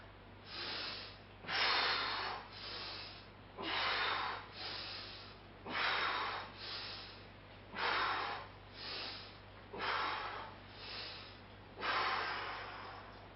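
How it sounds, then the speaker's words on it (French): Steady rhythmic breathing in and out during a health stick (bâton de santé) exercise, alternating inhale and exhale roughly every second, close and clear with a low steady hum beneath and no talking. "J'expire derrière, j'inspire devant. Et dans l'autre sens, j'inspire derrière."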